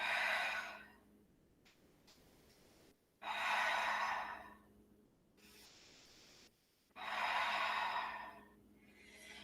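Three long, airy exhales during a yoga session, close to the microphone and evenly spaced, each a breathy rush lasting about two seconds with quiet pauses between.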